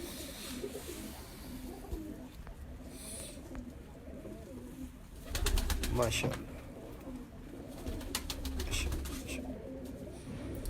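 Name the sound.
breeder pigeons cooing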